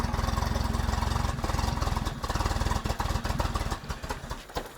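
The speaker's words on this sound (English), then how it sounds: "I've just adjusted the idle screw slightly just to lift the idle a bit." A Toyota RA28 Celica fastback engine idles close by with a steady, rapid, lumpy pulsing that loosens and turns slightly uneven toward the end.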